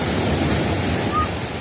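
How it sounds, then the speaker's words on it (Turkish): Steady broadband rush of sea waves washing in at Mersin, Turkey, continuous and fairly loud, with no distinct break between swells. "Size biraz denizin sesini dinleteyim. Dalgalar."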